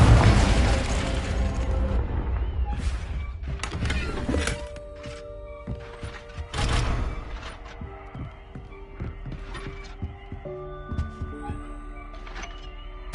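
A Confringo blasting spell goes off in Hogwarts Legacy, a booming burst with a heavy low thump that fades out, followed by smaller scattered impacts and a light magical shimmer.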